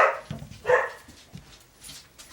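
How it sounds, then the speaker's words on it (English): A dog barks a few times close by, two sharp yaps early then softer whimpering barks, with quiet pauses between. "Sorry about that with her barking."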